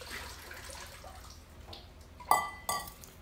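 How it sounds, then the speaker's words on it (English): Water is tipped out of an orchid pot during semi-hydroponic repotting, giving two short splashing pours close by, the first louder, after a quiet stretch. "So I'm gonna dump out the water."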